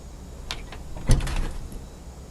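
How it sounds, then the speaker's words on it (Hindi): A door opening indoors in a home, a short clunk and rattle of the latch and frame at moderate volume with a brief quieter shuffle before it, no talk over it. "खोल दरवाजा।"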